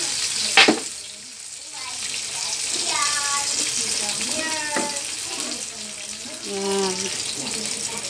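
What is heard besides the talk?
water poured into frying chicken fillet à la king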